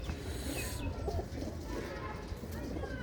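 Pigeon cooing among village birds outdoors, soft repeated coos over a steady bed of ambient noise and faint other bird calls, with no speech.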